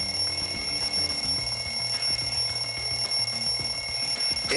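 A wall clock's alarm rings continuously and loudly for the whole stretch, a steady high electronic tone over a busy, cluttered background with no voices.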